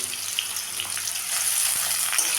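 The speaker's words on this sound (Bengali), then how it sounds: "পেঁয়াজটাকে বেরেস্তা করে আমি ভেজে তুলে নিলাম" Finely sliced onions fry in hot oil until golden and crisp, giving a steady, dense sizzle close by that grows slightly louder partway through, with no voices.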